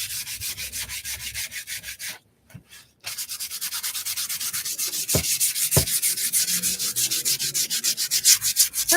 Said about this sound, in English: before you burn, you gotta sand just a little bit.